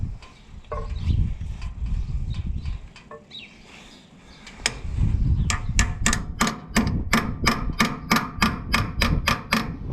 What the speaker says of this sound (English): I hope the power of the bolt extractor will get it.